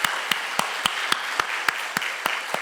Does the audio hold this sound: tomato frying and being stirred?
no